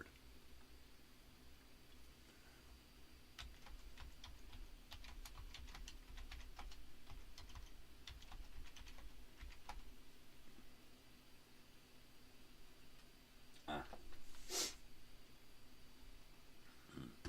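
Someone types on a computer keyboard, a run of quiet, irregular clicks and taps at close range over faint background hiss, followed by a couple of sharper isolated clicks.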